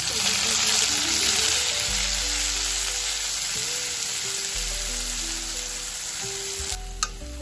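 Curry leaves and ground masala sizzle and crackle in hot oil over mustard and cumin seeds for a spicy drumstick curry, a loud, steady frying hiss throughout with a brief clatter near the end.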